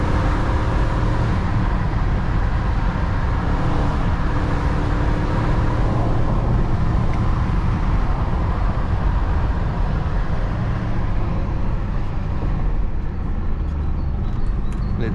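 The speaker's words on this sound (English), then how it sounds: "Hit the rev limiter. Third gear." Remapped BMW X5 4.4i E53 V8 driven hard in third gear on a curvy road, engine roaring loudly and continuously from inside the cabin as it reaches the rev limiter.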